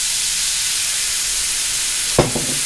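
A little water splashed into a hot pan of cheesesteak meat topped with grated string cheese, covered with a lid: a loud, steady sizzling hiss throughout, with a brief sharp burst of spitting near the end.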